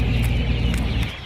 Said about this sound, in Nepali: चराहरू अति नै कराउँदैछ बास बस्नलाई होला होइन।